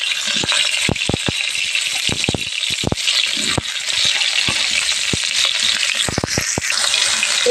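Cauliflower pieces hit hot oil in a wok, giving a loud, close sizzle broken by sharp metallic clacks and scrapes of a utensil against the pan.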